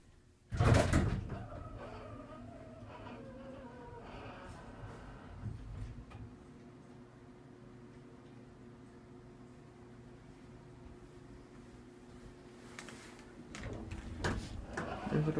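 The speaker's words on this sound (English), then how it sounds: "And then we'll get the door closing." Door of a small Dover hydraulic elevator at a department store sliding shut: a sharp thud at the start, then a long low mechanical hum and faint rattles, ending in another knock as it closes.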